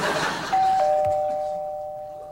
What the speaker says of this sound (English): A doorbell? I didn't know we had a doorbell in the studio.